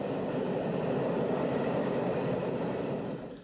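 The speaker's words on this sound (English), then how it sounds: "Looking somewhat smarter than the freight loco is this Czech Class 754 on a cross-border" A Czech Class 754 diesel locomotive at a border station, its engine and rolling noise a dense, steady rumble heard up close before fading slightly at the end.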